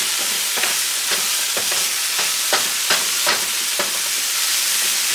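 Nopales charring in a hot pan alongside onions, giving a steady close sizzle broken by a run of sharp crackles and pops through the whole stretch, with nobody speaking.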